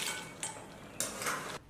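Clinking of a utensil against a pot as small shellfish and seafood are lifted out of a simmering broth seasoned with white pepper and salt, with two or three close metallic scrapes and knocks.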